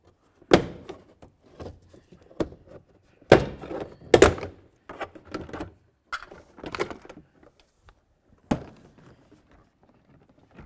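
Trim tool prying a door panel off a 2009-2020 Dodge Journey, with a series of close, sharp thunks and plastic snaps in irregular bursts between quiet gaps.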